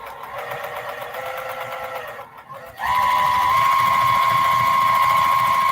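A sewing machine stitches binding onto a small quilt, running in a steady rapid whir, briefly pausing, then resuming louder with a constant high hum, close by and alone.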